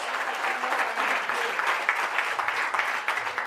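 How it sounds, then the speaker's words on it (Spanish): A church congregation claps together at a service, a dense, continuous round of applause from a large crowd that stays steady throughout, with no talking over it. "Fuerte ese aplauso a Él."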